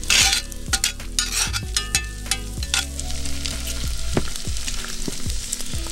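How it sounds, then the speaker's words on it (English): Garlic and ginger frying in a pan, loud steady sizzle with repeated sharp clicks and scrapes from stirring, busiest early and settling into a continuous hiss. "So all we want to do now is just cook the garlic and ginger a little."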